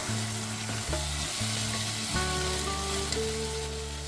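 Chopped carrots cook in a pot for a one-pot beef and rice dinner, giving a steady, close sizzle with a low, even stirring texture and no talk.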